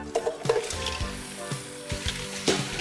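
Seafood and bacon stir-fry over high heat in a pan, producing a loud, continuous sizzle with rhythmic scraping strokes every half second or so and no talking.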